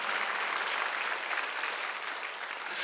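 Steady applause from a church congregation at a Sunday worship service, a dense wash of clapping that holds at even loudness throughout with no voices above it.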